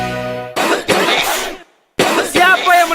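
Harsh, close coughs in a flu and cough medicine advert, a cluster of loud bursts separated by a brief silence, with a voice heard just before.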